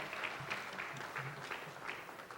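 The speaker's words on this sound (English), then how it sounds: "Let's give them all a big round of applause." Audience applause at a Purple Line transit rally, a steady, moderately distant wash of many hands clapping throughout.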